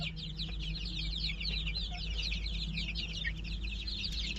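One-month-old chicks chirp and cluck continuously in a dense, overlapping chorus, heard close over a low steady hum.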